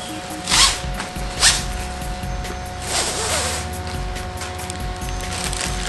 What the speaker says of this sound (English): cut the screen close to the pattern